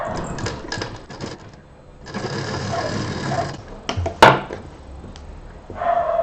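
A sewing machine stitches fabric strips together for a handmade home decor piece, whirring close by in several short bursts separated by brief pauses and handling clicks.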